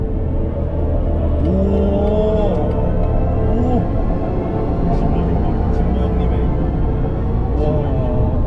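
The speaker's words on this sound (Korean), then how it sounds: "스포츠 모드 활성화시키면 스포츠 사운드가 이렇게 납니다." BMW i7 electric sedan in sport mode producing its synthetic driving sound, a continuous loud whirring hum with rising tonal sweeps during acceleration, heard from inside the cabin.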